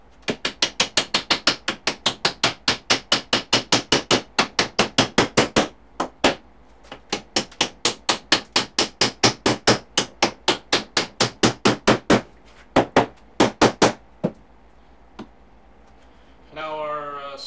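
A homemade hammer drives wooden dowels into a DIY rolling workbench, a long run of sharp rapid strikes in quick bursts with brief pauses, loud and close, ending with a short scraping noise.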